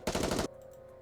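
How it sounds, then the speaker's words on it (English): Rapid burst of automatic gunfire in the video game Goddess of Victory: Nikke, a loud, dense rattle of shots lasting under half a second, cut off abruptly and followed by a faint lingering hum. "it promptly is assaulted by a hail of gunfire to its core"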